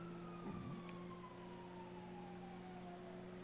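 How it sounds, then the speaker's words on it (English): A faint, distant police or fire engine siren in the video game GTA 5, a thin wailing tone drifting slowly downward over a steady low hum of game ambience. "I hear a siren again."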